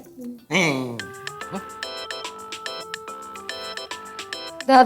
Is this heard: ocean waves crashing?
no